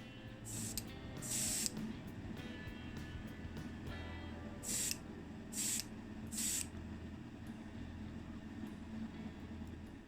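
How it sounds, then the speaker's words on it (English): Aerosol spray paint hisses in short bursts onto a 1982 Matchbox Mazda RX7 model drift car, copper and green mixed together, several separate sprays with pauses between them over a low background rumble. "And I just started spraying."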